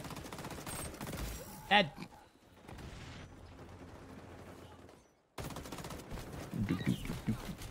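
Gunfire in the online shooter XDefiant, bursts of shots crackling in the mix while players talk over the match, with a quieter gap mid-clip before the firing resumes.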